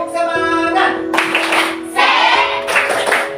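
A classroom of children claps together in a rhythmic spirit clap, loud, close and sharp bursts of unison hand claps in a steady patterned beat, with children's voices chanting along at times.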